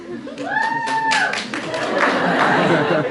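An audience at a comedy festival show at a business school claps briefly under a voice, with some laughter mixed in, the clapping fairly near and moderate in loudness.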